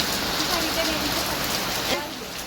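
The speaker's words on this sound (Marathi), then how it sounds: "पाऊस येत आहे" Steady rain falls on a village home in a rural setting, a continuous even hiss with a faint murmur of voices underneath.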